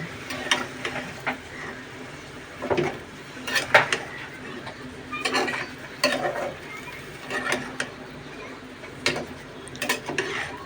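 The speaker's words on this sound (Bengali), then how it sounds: "আস্তে আস্তে নাড়তে নাড়তে" Taro stolons and shrimp stirred slowly in a pan for a village-style dish, a spatula scraping and knocking against the metal in irregular strokes over a faint sizzle.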